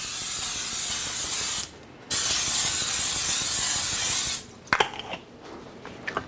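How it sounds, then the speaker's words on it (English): Non-stick coconut oil spray hisses from an aerosol can onto two 8-inch cake pans in a kitchen, in two long steady bursts separated by a brief pause, followed by clicks and light clatter of the pans. "I'm going to spray these with the non-stick coconut oil"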